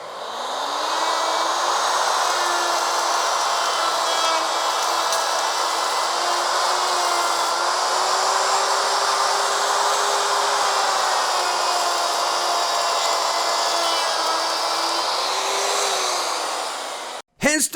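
A Ryobi router with a rabbeting bit cuts wood in one long continuous pass, a loud close high-pitched motor whine with a shifting grinding tone that stops abruptly at the end.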